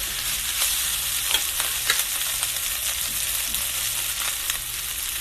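Rice frying in about a tablespoon of hot oil in a pan on medium-high heat gives a steady, close sizzle with small crackling pops as it is stirred, with no talking.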